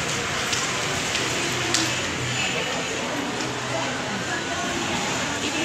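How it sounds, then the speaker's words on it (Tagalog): Heavy rain pours down outdoors as a steady broadband hiss, with occasional louder drops or ticks standing out; no one talks over it. "Ang lakas ng ulan sa labas."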